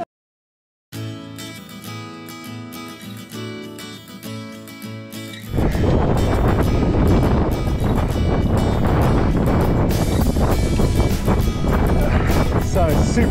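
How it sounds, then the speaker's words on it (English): Loud wind buffets the microphone in a steady roar that grows stronger partway through, with faint hoofbeat-like thumps underneath, on an e-bike ride over Loughrigg Fell on an Orange Surge. "So, super windy today."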